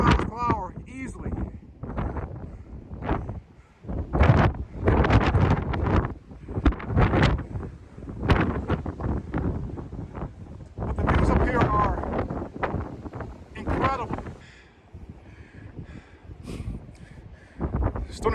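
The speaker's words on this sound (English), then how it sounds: "the winds are gusting about 35, 40 miles per hour easily" Strong gusting wind at about 35 to 40 mph buffets the microphone on the rocky Stony Man summit in Shenandoah National Park, roaring in loud, uneven surges throughout while a person talks underneath it.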